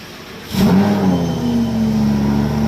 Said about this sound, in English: Lambo is leaving.